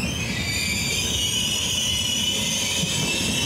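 Steady rumbling of a moving train in Italy with a constant high whine over it, continuous and loud from start to finish, no voices.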